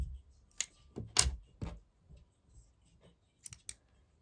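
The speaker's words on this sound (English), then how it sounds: "then I'm gonna cut off my yarn" Scissors snip through yarn after a crocheted balaclava scarf is finished with a slip stitch and chain: a few sharp close clicks and cuts in a quiet room, then two more light snips near the end.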